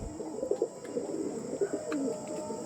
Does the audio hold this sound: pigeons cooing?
yes